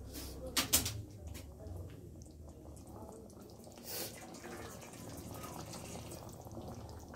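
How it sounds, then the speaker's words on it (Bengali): Water poured into a simmering Bengali bata fish curry with potatoes, a soft continuous pour and trickle in a home kitchen, with a couple of brief clinks early on and faint low background hum. "আরেকটু জল দিয়ে দিচ্ছি, কারণ আলুটাও সিদ্ধ হতে হবে।"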